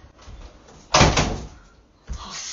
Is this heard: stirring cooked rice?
no